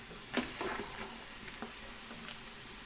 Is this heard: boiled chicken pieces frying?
yes